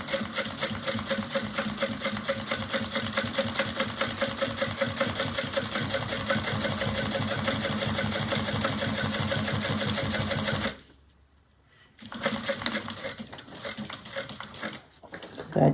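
A sewing machine stitches a bag with a fast, even, close mechanical chatter for about ten seconds, then stops abruptly, followed by quiet handling and soft clicks.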